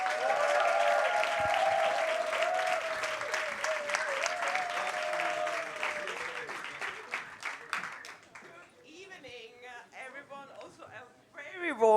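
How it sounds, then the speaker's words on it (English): Festival stage audience giving a big round of applause, dense sustained clapping that fades after several seconds, with a person speaking over it and talk continuing as it dies away. "With a huge, even bigger round of applause"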